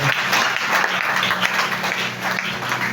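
Church congregation at a French-language service with a prophet preaching, applauding in dense, continuous clapping mixed with cheering and voices throughout the hall.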